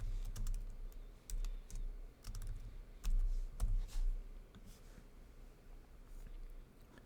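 Someone types a reply on a computer keyboard in quick irregular bursts of close key clatter, with short pauses between runs.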